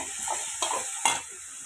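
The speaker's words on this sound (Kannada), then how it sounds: "ಈರುಳ್ಳಿ ಟೊಮೆಟೊ ಹಾಕ್ಕೊಂಡು ಫ್ರೈ ಮಾಡ್ಕೊತೀನಿ ರೀ" Onion and tomato fry in a pan, giving a steady sizzle with three louder scraping stirs at roughly even intervals, close and clear with no talking.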